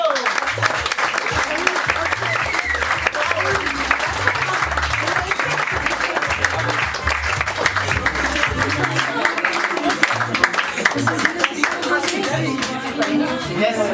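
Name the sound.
audience applause for comedian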